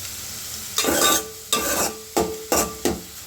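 Curry leaves and green chillies sizzle in hot oil for a spicy chicken fry, heard as four loud, close bursts of frying hiss with stirring scrapes and no talking.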